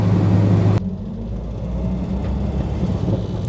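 An early Peugeot 504 pickup with a rare petrol engine, heard from inside while driving: a loud, steady low engine drone and road rumble with a sudden drop in pitch and intensity just under a second in.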